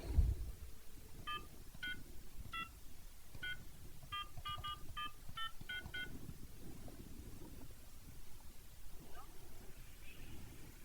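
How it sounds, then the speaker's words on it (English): An old push-button telephone being dialed: a short series of distinct touch-tone beeps in irregular clusters, moderately clear over a low background rumble, with no talking. "we're actually going to use a rotary phone. Well, it's not a rotary phone, but it's an old phone."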